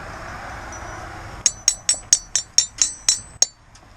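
Metal washers clink together in quick succession during a tree cabling install, about nine bright, ringing taps in an irregular rhythm, close and clear over quiet outdoor background.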